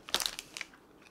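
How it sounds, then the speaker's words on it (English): A quiet, close crunch of teeth biting into a Cookies & Cream Twix bar, a few quick crisp snaps that fade into soft chewing within a second. "It's a little weird to eat a Twix"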